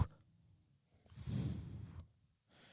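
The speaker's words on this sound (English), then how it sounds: "Can you hear him snoring?" A single soft, throaty snore rises and fades in a quiet room, faint and close by.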